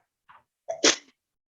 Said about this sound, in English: 3 sneezes, 1 for each person of the Trinity.